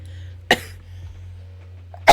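Two sharp, loud coughs from a person close to the mic, spaced about a second and a half apart, over a faint steady low hum.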